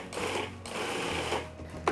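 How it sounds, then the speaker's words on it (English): Food processor chopping fresh herbs for green butter, a loud motor whir in short pulses with brief dips between bursts, close and unaccompanied by talk. "It kind of moves the food around inside the food processor a little bit more."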